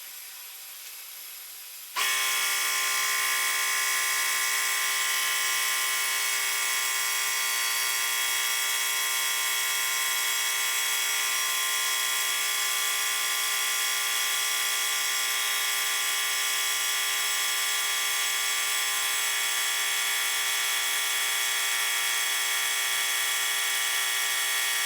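An air compressor kicks on abruptly after two seconds of quiet and runs toward its 130-pound pressure set point, a steady, loud, high whining hum with strong tonal harmonics holding unchanged to the end.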